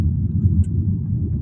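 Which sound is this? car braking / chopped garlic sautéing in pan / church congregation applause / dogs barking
car braking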